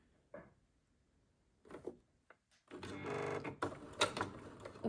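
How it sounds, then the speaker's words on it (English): A sewing machine stitches an invisible zipper into fabric, running in a loud, steady mechanical burst through the second half after a few faint, short bumps and handling knocks. "Just keep sewing."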